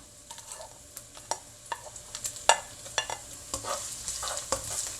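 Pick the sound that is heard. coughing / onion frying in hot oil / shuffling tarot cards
onion frying in hot oil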